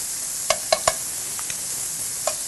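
Garlic sizzling in a hot pan as a spoon stirs it, a few sharp scraping clicks over a steady soft frying hiss, with no talking.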